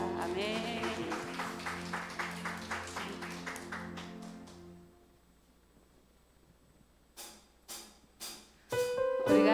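A church congregation at a Wednesday service claps in time for about five seconds over sustained music, fades to near quiet, then a few scattered claps and a swell of music return.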